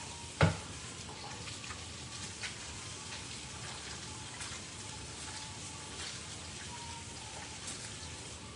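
Steady broadband hiss of running water in a home kitchen during hand washing, continuous and fairly even throughout, with a sharp clatter near the start and faint small knocks.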